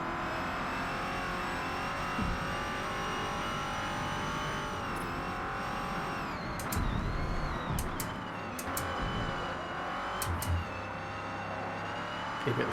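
A Next Gen NASCAR car engine races at Mount Panorama in the Forza Motorsport game, a loud, sustained high-pitched engine whine that shifts in pitch, with brief clicks and thumps.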